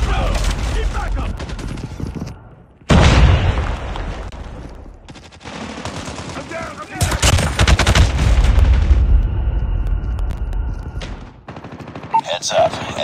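Bursts of automatic gunfire in Call of Duty Mobile, loud and close, with rapid rattling volleys broken by short pauses and a sharp boom near the start, with game voice callouts heard among the shooting.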